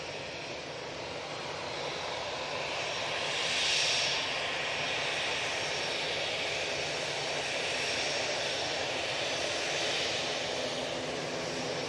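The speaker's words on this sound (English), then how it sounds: "Singapore Airlines coming in." A Singapore Airlines airliner arrives at Manchester Airport, a distant steady jet engine rumble and hiss that swells gently and fades, with no voices.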